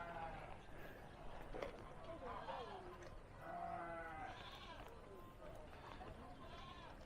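Goats bleat repeatedly, wavering and somewhat distant, over a constant outdoor rumble, with people talking faintly now and then.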